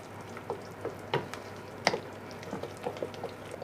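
A pepper and goat cheese cake batter being mixed by hand in a bowl, with soft, wet squishing strokes in an irregular rhythm, faint and close, with no talking.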